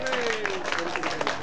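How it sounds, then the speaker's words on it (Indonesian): Brief burst of audience clapping at a book talk show, a crowd of hands patting steadily under a voice talking over it. "Tepuk tangan dulu."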